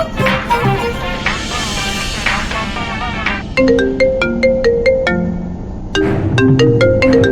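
A mobile phone rings with an incoming call in a Tamil TV serial scene: after dramatic background music, a loud melodic ringtone plays repeating bright note patterns.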